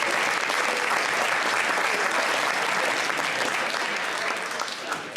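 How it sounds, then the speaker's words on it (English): A crowd at a high school hall of fame induction ceremony gives loud, sustained applause for the principal and superintendent, dense clapping that stays strong and fades slightly at the very end. "A round of applause for our principal and our superintendent."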